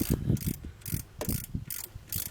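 A hand ratchet tightens a bolt while a Dodge Dakota alternator is replaced, giving short bursts of rapid clicking in an even back-and-forth rhythm, close and clear with no voices.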